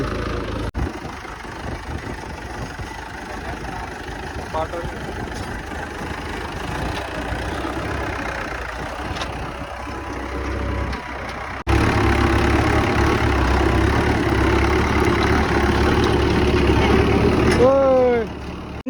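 A tractor engine idles with a steady low rumble throughout, growing louder partway through, while people talk over it.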